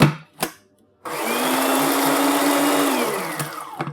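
A food processor blending herbs with butter follows a few sharp clicks, then runs as one steady, loud whirring drone for about two and a half seconds before winding down.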